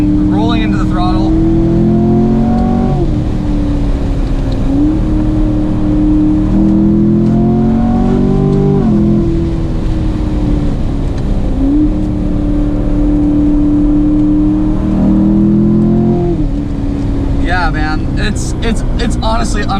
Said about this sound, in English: long corner, so confident, rolling into the throttle